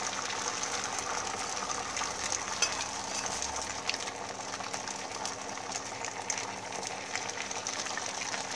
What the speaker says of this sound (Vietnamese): Mình chiên với lửa lớn vừa nha mọi người